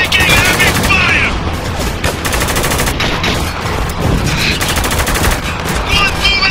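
Heavy, sustained gunfire in the war shooter Spec Ops: The Line, with loud overlapping automatic bursts and rattling fire throughout, and shouted soldier voices mixed into the din.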